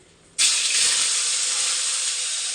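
Paneer hits hot, salted oil with a sudden loud sizzle that holds as a steady, bright hiss for a couple of seconds.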